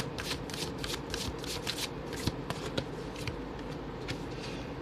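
Tarot cards being shuffled by hand, a close series of rapid riffling flutters with occasional soft taps, steady and quiet with no talking.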